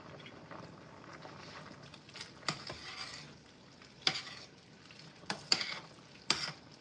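Chili pepper tomato paste sizzles faintly in a pan as it is stirred, with a soft steady frying hiss and a few sharp clanks of the utensil against the pan.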